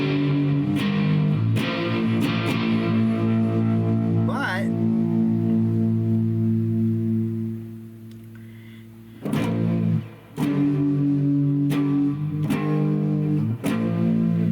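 Distorted electric guitar chords through a DIY Dumbletone effects pedal ring out and sustain, then fade. Fresh strummed chords follow, with a brief spoken word between them.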